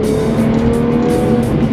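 A Porsche 996 flat-six engine revs steadily and loud and close, with a continuous droning note and no speech over it.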